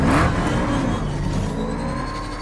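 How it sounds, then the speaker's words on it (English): A black armored Batmobile's engine roars and revs loudly through city streets, a continuous close mechanical growl with a sharp burst at the start. "A black armored car flies through the Gotham streets, engine roaring and wheels kicking up gravel as it makes sharp turns."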